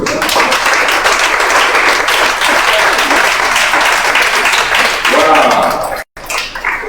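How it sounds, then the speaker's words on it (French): A church congregation applauding at a worship gathering, loud dense clapping filling the room for several seconds before breaking off abruptly near the end. "Acclame Jésus pour ça."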